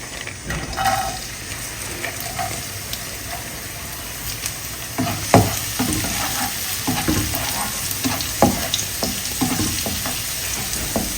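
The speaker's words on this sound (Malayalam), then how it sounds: "നമുക്ക് മുന്തിരി വറുക്കാം" Raisins fry in hot oil in a pan, giving a constant close sizzle with light stirring scrapes and small utensil taps scattered through it.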